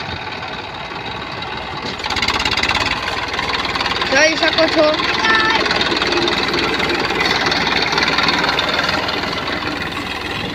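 A tractor engine runs with a steady, loud, broadband rumble that swells after the first couple of seconds and holds, while people talk over it.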